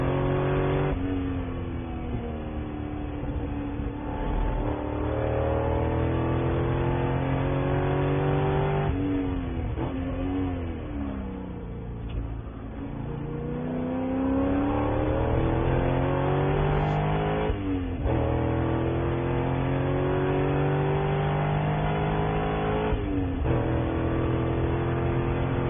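Spec Corvette race cars at Laguna Seca roar through the corners, engines revving hard and dropping under braking before climbing again in long continuous waves, loud and close with no voices.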